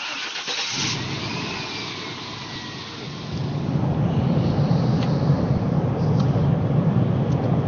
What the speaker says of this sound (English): The car's sputtering really bad.